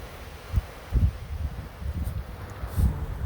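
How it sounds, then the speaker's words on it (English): Gusty wind buffets in low rumbling bursts, with a faint rustle of leaves behind it and no voices. "Check the trees blowing around. Look, definitely windy"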